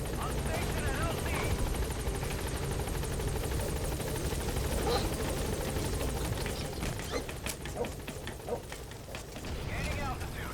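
Helicopter rotor and engine noise from the Pequod transport arriving at a landing zone in Metal Gear Solid V, a steady loud drone throughout with game effects and voices layered over it.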